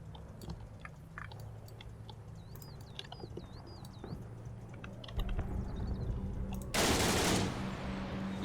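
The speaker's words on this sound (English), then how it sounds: "they're being shot up by that Vickers team in the hedgerow there" Vickers machine gun team firing from a hedgerow in the Combat Mission WWII wargame, quiet rapid rattling bursts under low rumbling ambience, followed by a loud burst of noisy gunfire near the end.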